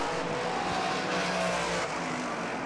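Modified race cars on the Granby Autodrome oval, a continuous blended engine roar of several cars running side by side through a turn, heard from a distance with no voices.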